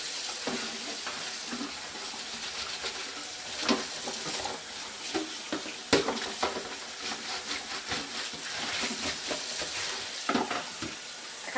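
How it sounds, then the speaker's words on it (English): Running tap water splashes steadily while home-brewing equipment is scrubbed like dishes in a sink, broken by scattered clinks and knocks of gear being handled, close and fairly quiet. "I kind of feel like I'm just sort of videoing you guys watching me wash dishes at the moment"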